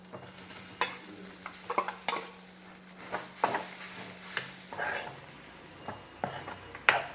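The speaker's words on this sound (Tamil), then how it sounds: "இப்போ இந்த ஸ்டேஜில் நாம் இந்த சாதத்தை இது கூட கலந்துக்கலாம்." A spoon stirs cooked rice into a fried lentil mixture in a pan for an instant lunchbox rice, giving irregular scraping and clinking strokes over a soft continuous sizzle, close and moderately loud with no talk.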